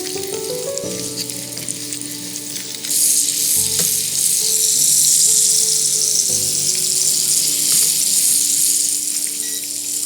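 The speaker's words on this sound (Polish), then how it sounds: "Jak już nam się masło troszeczkę zaczęło rozpuszczać, wrzucamy jabłka. I kąpiemy je w maśle." Apples drop into a hot pan, and a loud steady sizzle of frying in melted butter follows. Occasional clinks and stirring sounds come over it.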